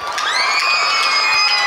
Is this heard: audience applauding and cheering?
yes